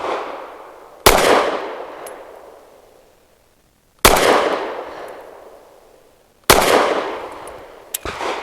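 A Kel-Tec P15 pistol fires competition hollow point rounds as three loud, sharp single shots spaced a few seconds apart, each ringing out and decaying, followed by a fainter short report.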